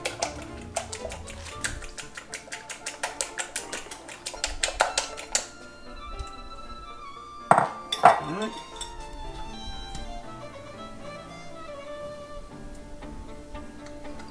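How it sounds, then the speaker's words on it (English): Four eggs beaten in a bowl, rapid ticking clinks of a utensil against the bowl for several seconds, then clatter and scattered clinks, fairly quiet with a voice speaking. "we're gonna start off first with beating our 4 eggs"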